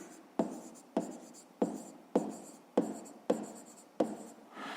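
A pen writes a fifth-grade math answer by hand in seven evenly spaced scratchy strokes, close and distinct, with no talking.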